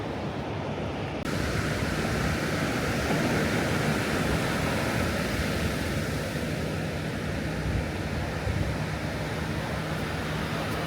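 Ocean waves breaking on a San Diego beach, a continuous broad roar of surf mixed with wind buffeting the microphone, steady and loud throughout with no voices.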